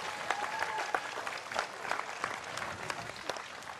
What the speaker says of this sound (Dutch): nog een heel hartelijk applaus, dames en heren